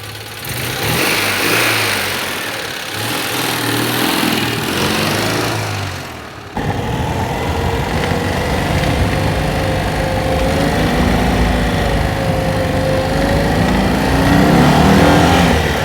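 An upgraded Citroen 2CV engine runs close by, loud and continuous, with a buzzy revving note that rises and settles, briefly dips partway through, then holds a steady higher drone.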